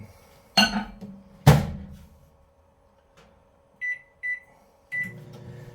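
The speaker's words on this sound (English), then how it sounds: "I'm going to put it in the microwave." A microwave oven runs while melting food in a bowl, with a low steady hum under two loud clunks of handling early on, followed by a few short beeps near the end.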